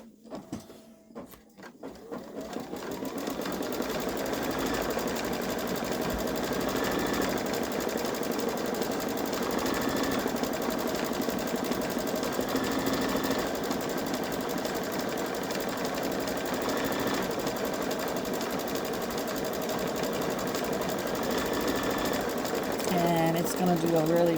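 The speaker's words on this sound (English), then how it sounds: "it's going to do a really pretty satin stitch around the cross." A Babylock Solaris 3 embroidery machine stitching a satin stitch runs at a steady, fast mechanical whir with a regular clatter, close and continuous after a short start-up.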